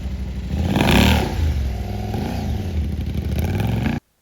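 A 2020 KTM 790 Adventure S motorcycle with the catalytic converter removed, stock muffler and aftermarket intake revs loudly and close, swelling early then holding a rough, throaty idle before cutting off abruptly.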